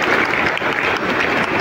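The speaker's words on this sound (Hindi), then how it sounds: "इस आखिरी बंद के लिए भी एक बार ताली बजा दीजिएगा" An audience at a Kalki Jayanti event claps loudly in a short, dense burst of applause that holds steady throughout.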